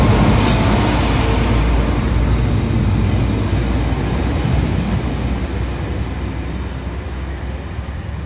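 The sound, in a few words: train running in Northern Ireland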